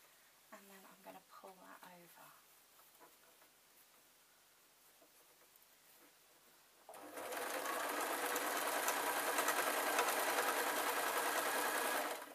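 Sewing machine stitching ragdoll pieces runs as a loud, steady whirring buzz starting partway through and continuing to the end; before it, someone talks quietly over faint handling sounds.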